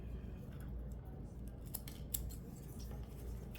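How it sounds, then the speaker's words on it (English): Scissors snipping the tails off a knotted cord, heard as a few faint, close, crisp cuts spread across a quiet background with no talk. "We're going to cut the tails off."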